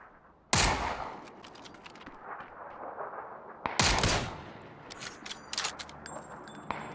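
Gunfire in the video game PUBG: two loud, sharp bursts of shots with echoing tails, followed by quieter scattered shots and game sounds.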